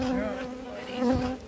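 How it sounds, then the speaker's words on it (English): Honeybees buzz steadily at an open hive during an inspection, a close, continuous drone that swells slightly toward the end. "Many bees."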